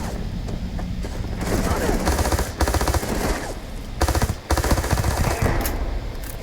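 Kraken weapon in Starfield, an unmodded game, fired in long rapid automatic bursts with dense overlapping reports, loud and close, broken by two brief pauses.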